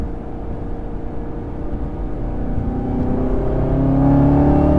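A Chevrolet Camaro ZL1 1LE engine accelerates on a mountain road, its loud, steady roar building and rising in pitch over about five seconds with no talking.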